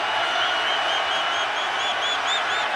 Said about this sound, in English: They have been making now some stadium announcements urging the crowd to settle down.